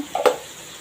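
Water poured into a pan of bitter gourd masala makes a single quick splash and hiss lasting well under a second, up close.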